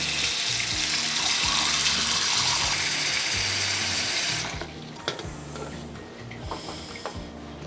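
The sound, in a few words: water filling PetSafe stainless steel cat water fountain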